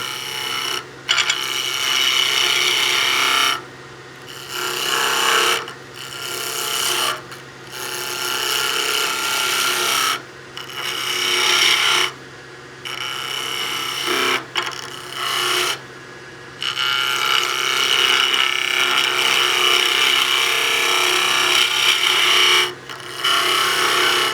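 A skew chisel cuts a spinning wood blank on a lathe with light bevel pressure. A loud, continuous rasping shave is broken by several short gaps where the tool lifts off, close and steady, with no voice.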